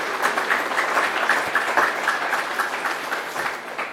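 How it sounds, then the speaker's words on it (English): A ceremony audience at a television awards event gives a short round of applause, dense steady clapping from many hands filling the room throughout, moderately loud with no talk over it. "a little round of applause for them for doing that too"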